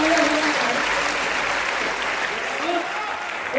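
Audience applause at a Hindi kavi sammelan poetry recital, a thick continuous wash of many hands clapping at steady loudness, with faint voices and tonal murmurs beneath.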